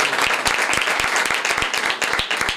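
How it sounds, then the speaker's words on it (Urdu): A church congregation at a Sunday service in Saleem Colony, Pakistan, claps loudly and steadily, a dense run of overlapping handclaps filling the room with no pauses. "ایسے خدا کے لیے زوردار تالیاں"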